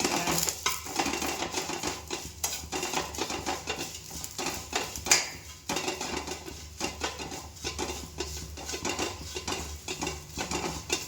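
A spoon works fried homemade chips through chili powder in a pan with continuous rhythmic scraping and clinking against the metal. A faint sizzle sits underneath. No voices.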